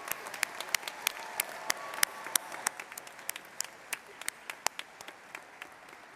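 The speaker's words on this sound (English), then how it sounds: "one more round of applause for our graduates, their families, the faculty, my dear colleagues on the podium" At an architecture and design school commencement, the crowd gives graduates a sustained round of applause. Individual sharp claps stand out near the mic over a soft wash of clapping that fades slightly toward the end.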